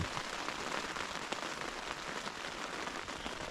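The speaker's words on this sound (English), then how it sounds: "The biggest thing is the rain, which you can" Steady rain falling on a tent during a gloomy wild camp at Derwent Edge in the Peak District, a soft continuous patter of drops on fabric, close and even, with no wind or voices.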